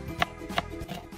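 Two sharp knife strikes cutting onions on a board, spaced about a third of a second apart, close and fairly quiet with soft background noise.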